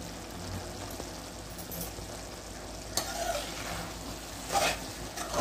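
Cooked masoor lentils with fresh coriander are stir-fried in a pan, giving a soft, steady sizzle broken by a couple of brief scraping stirs.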